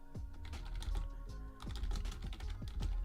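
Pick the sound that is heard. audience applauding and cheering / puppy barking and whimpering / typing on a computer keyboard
typing on a computer keyboard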